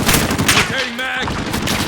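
Rapid automatic gunfire in the video game Modern Warfare, a dense close burst of shots over battle noise, with someone shouting in the middle.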